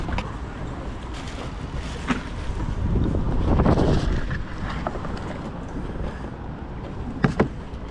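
Gusty wind buffeting the microphone, swelling to a heavy rumble in the middle, with faint voices and a few clicks in the background.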